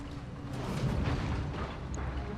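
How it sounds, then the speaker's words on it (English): An ammunition explosion in RogueTech, the BattleTech mod, erupts as a sustained, muffled rumbling blast with crackling bursts layered through it, moderately loud and staying dense for the whole stretch. "Ammo explosion."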